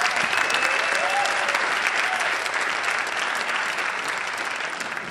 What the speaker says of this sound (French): Est-ce qu'on peut lui donner une bonne main d'applaudissement?